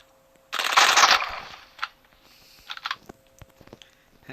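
Gunfire in the PUBG video game, a loud dense burst of rapid shots lasting about a second, followed by a few scattered quieter shots and clicks.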